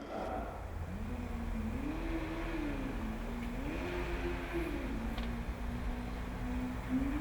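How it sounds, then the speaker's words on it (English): A Formula Student race car's engine runs at a distance on an endurance track, a steady droning whine that rises and falls in pitch as it revs, continuous and moderately faint. "So I clearly hear the car running again"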